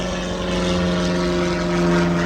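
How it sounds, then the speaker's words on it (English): A propeller airplane flies over a vehicle lot, a steady, loud, continuous engine drone with a low droning hum that swells slightly toward the end; no talking. "That plane fly over."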